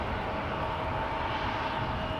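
An Embraer jet taking off from Schiphol's Polderbaan runway, a continuous loud engine roar with a steady tonal whine, constant in level and close, with no voices.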